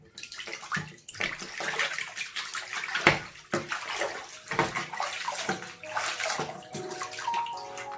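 A Motorola Moto G 5G Plus smartphone is shaken underwater in a filled basin, producing continuous close sloshing, splashing and gurgling water with no talk.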